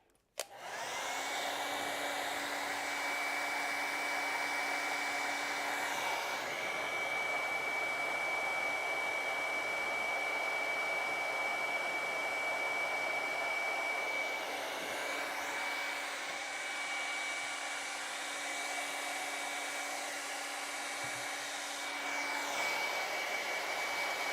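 A handheld hair dryer blows on a watercolor and colored pencil painting to dry it, a steady loud whooshing whir that runs unbroken for about twenty-four seconds with no voices.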